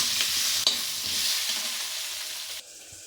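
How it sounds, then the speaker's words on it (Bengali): Pointed gourd frying with turmeric in oil gives a steady, close sizzle with a couple of stirring scrapes, fading down near the end. "হলুদ দিয়ে পটলগুলোকে ভালো করে ভেজে নেব।"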